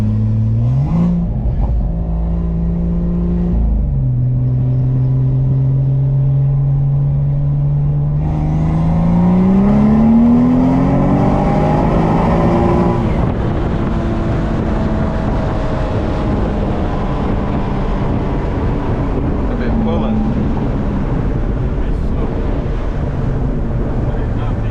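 A BMW 335i with a single-turbo N54 engine running on E85 revs repeatedly, its loud exhaust tone rising and falling through several pulls, with wind buffeting the microphone and voices talking at moments.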